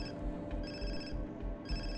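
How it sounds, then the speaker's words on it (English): A telephone rings in Far Cry 3, repeated electronic ring bursts in a steady rhythm over a low rumbling game background. "Where's the phone coming from?"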